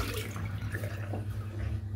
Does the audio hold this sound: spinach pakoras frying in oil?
no